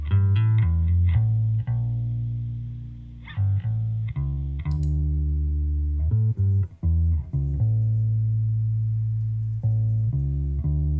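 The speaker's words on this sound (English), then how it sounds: "I've also brought in some effects on the bass." Bass guitar plays a rhythmic line of sustained notes, thickened by chorus and distortion effects, loud and up close.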